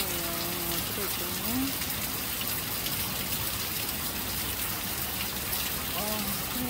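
Heavy downpour of rain: a steady, dense, loud hiss of falling water throughout, with a few brief voiced sounds near the start and end.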